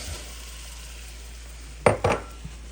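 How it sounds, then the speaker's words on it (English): Flour goes into melted butter in a saucepan to start a blonde roux for béchamel: two quick scraping, sizzling bursts close by over a low steady hum, then a faint tap. "let's begin with melting butter in a saucepan. Let's go ahead and add our flour"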